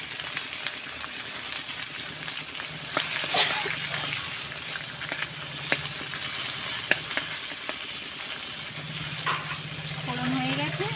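Panch phoron and black cumin crackle and sizzle in hot oil left after frying mrigel fish, a continuous close frying hiss with sharp pops and a few utensil clinks throughout.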